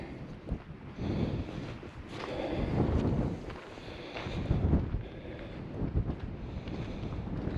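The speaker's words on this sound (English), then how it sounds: "It's quite windy because we're getting the wind coming right up the valley." Strong wind blows up a coastal valley on the Kauzman Trail hike with the ocean nearby, gusting and buffeting the microphone in uneven rumbling surges, and no one speaks.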